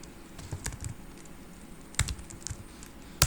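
Fingers type on a new computer keyboard in short irregular bursts of crisp clicks, closer keystrokes sharper than others, with a few louder taps and no talking.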